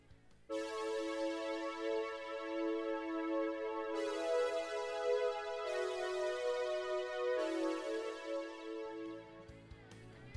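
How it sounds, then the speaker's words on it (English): A soft synth pad sustains chords that swell in, shifting harmony every few seconds, smooth and continuous with no voices. "One is a simple pad playing the chords"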